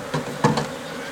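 Africanized honey bee swarm being captured: a short, close burst of buzzing wings that rises and dips in a few quick pulses.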